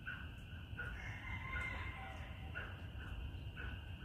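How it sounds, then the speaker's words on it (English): A chicken on a house porch gives repeated clucking and crowing calls at moderate distance, rising and falling in short bursts over a low background hum. "But we got a chicken on the porch down here."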